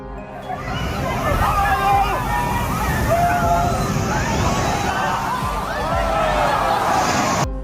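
Powerful waves crash and slosh over people on a shore, making a loud, continuous churning roar of water with shouting and crowd voices mixed in throughout.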